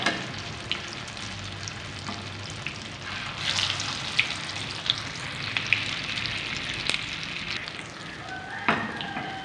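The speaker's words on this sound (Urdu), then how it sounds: "باقی بھی اسی طرح فرائی کر لیتے ہیں" Chicken and lentil shami kebabs fry in a pan with a steady close sizzle and crackle, plus occasional brief spatters and light scraping throughout.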